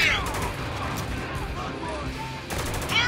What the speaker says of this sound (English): Who's shooting over here?